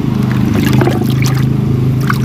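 Roughly four or five litres of water poured from a bucket, a steady close trickling and splashing stream over a low engine-like hum, with no talking.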